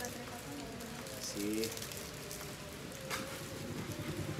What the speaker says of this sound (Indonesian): Ini suasana semakin sendu nih karena hujan lumayan besar.